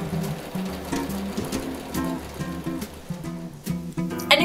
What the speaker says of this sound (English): have your sewing machine put on the zigzag stitch